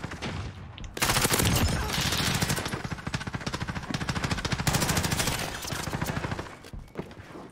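Dense rapid gunfire in the video game Modern Warfare, loud continuous bursts of three-round fire blending into a near-constant barrage with brief gaps.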